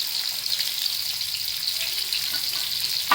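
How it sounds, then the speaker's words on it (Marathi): Stuffed bitter gourd (karela) roasts in a pan over a medium gas flame, giving a steady soft sizzle throughout with a small clatter near the end. "उलटी पलटी करून चांगले कारले भाजून घ्यायचे चांगलं गॅस मिडियम फ्लेमवर करायचा"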